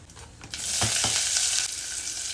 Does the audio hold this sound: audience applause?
no